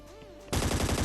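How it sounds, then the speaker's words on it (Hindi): Automatic gunfire in the shooter game Scarfall 2.0 bursts in loud and close after a short quiet tonal stretch, a rapid, evenly spaced rattle of shots that carries to the end. "यहाँ पर ना भाई कुछ मतलब खतरनाक से गन साउंड्स वगैरह आ रहे होते हैं"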